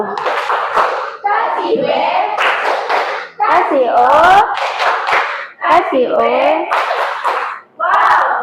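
Children and a teacher perform a rhythmic ice-breaking clap game in a classroom, bursts of group clapping interleaved with loud chanted and sung voices, steady and close throughout.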